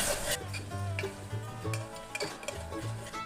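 Fresh ginger garlic paste frying in oil for a mutton curry while a spoon stirs it, a steady close sizzle with repeated scraping strokes against the pan.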